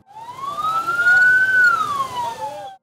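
Wailing siren of an ambulance rising and falling in one long, loud sweep, with no voices over it.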